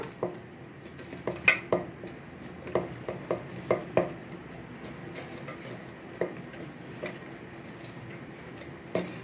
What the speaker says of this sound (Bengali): এবার তরমুজের টুকরোগুলো পুরো আমি বড় একটা মিক্সির বাটিতে নিয়ে নেব।